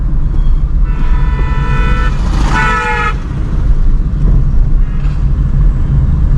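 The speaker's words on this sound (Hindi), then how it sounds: "स्कूटी वाले को हॉर्न दे दिया।" A car horn toots twice in short bursts at a scooter in traffic over steady road and engine noise, the second honk slightly longer.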